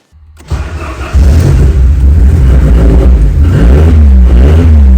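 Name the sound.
Ford Sierra Cosworth engine starting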